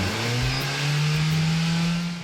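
A Toyota Prius hybrid with a CVT gearbox races in Gran Turismo 7 in Tokyo, its engine a loud, steady droning whine that holds one pitch and swells slightly, heard alone.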